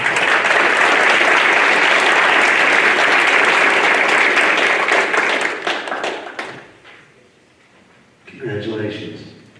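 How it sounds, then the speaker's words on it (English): A room of attendees at a Sullivan County Board of Education meeting claps loudly and steadily for several seconds, then the applause fades out to near quiet before a voice starts speaking. "So give him a great big round of applause."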